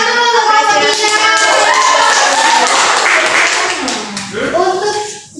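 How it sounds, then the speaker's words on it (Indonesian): Children in a primary school classroom clap for a group, a busy, loud patter of hands mixed with overlapping children's voices and chatter throughout, fading near the end. "Tepuk tangan dulu untuk kelompok 3."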